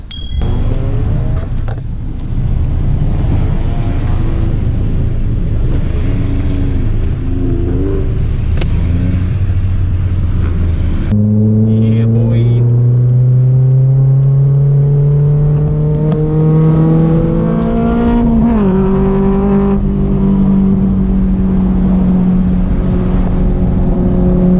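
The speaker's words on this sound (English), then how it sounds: "I'm not used to sitting in a real race car." Honda S2000 race car heard from inside the cockpit on a racetrack during a NASA season-opener session, the engine droning loud and close, then pitching up through the revs in rising sweeps with gear changes.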